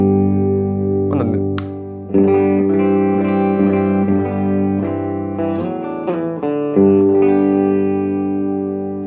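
Electric guitar through a Supro amp set to 35 watts Class A with extra mid-range, clean chords and single notes ringing out with sustain and decay, played close with no talking.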